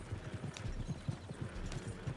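Horses gallop in the Red Dead Redemption 2 game, a rapid, even clip-clop of hooves on ground at moderate distance, running steadily without pause.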